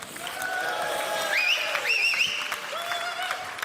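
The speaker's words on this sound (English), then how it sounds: "Round of applause for Roger." A crowd at a crypto news live stream breaks into steady applause lasting a few seconds, with a couple of sharp whistles or whoops riding above the clapping.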